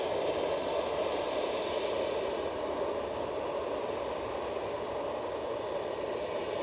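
An Etihad airliner pushing back at Manchester Airport, a steady, fairly faint engine hum and hiss holding level throughout, with no speech.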